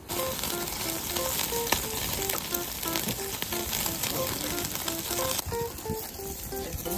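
Food fries in a pan with a constant, dense crackle and sizzle, close and steady, while music with a repeating melody plays behind it.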